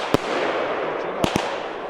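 Consumer fireworks from Lidl go off outdoors, three sharp bangs, one early and two close together near the end, over a steady crackling hiss.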